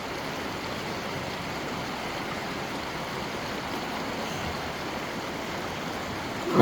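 Water flows steadily in an outdoor stream, a constant even rush at moderate level with no voices, ending in a brief louder splash or knock.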